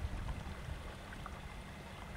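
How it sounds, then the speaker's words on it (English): Incoming tidal water rushes past a mooring buoy holding a boat, a steady, even, waterfall-like hiss that carries on unbroken without any voices. "It's like a waterfall as the water is ripping past that buoy"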